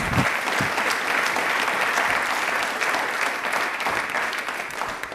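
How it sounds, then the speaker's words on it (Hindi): A studio audience at a railway-themed quiz show applauding steadily, with dense, loud clapping that holds throughout and fades slightly at the end. "प्लीज एक बार तालियां जोरदार होनी चाहिए"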